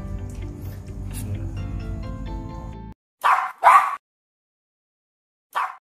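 Short, sharp yips from 36-day-old Shih Tzu puppies come as three quick bursts after a tonal hum fades, close and fairly loud, with near silence between them.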